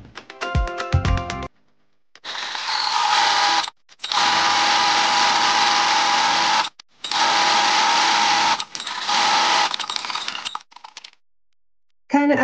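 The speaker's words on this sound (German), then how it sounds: "Im ersten Schritt legen wir die langen Kanten übereinander und nähen dann diese Strecke ab." Sewing machine stitching the long overlapped edges of a fabric headband, running in several steady bursts of a few seconds each with short pauses between, loud and close.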